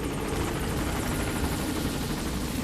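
A helicopter arriving in the video game Metal Gear Solid V, its dense rotor chop and turbine roar loud and close, continuous and alone.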